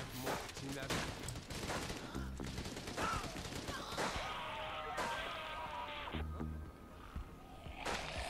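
Scattered gunshots and bursts of fire in Zombie Night Terror, irregular cracks and volleys with a few heavier impacts, moderately loud with someone talking over parts of it.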